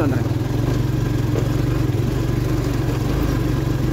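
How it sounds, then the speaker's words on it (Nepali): A motorcycle engine in first gear on a rough off-road trail chugs in a low, steady rhythm at close range, laboring at a constant pace without revving up. "त्यो बाटै तानिरहेको छ बाइकले मजाले"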